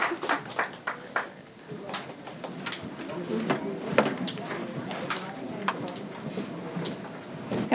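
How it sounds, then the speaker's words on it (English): Students at a school board meeting get a round of applause, faint and uneven hand clapping scattered through a quiet room, with a murmur of voices underneath. "Give them a round of applause."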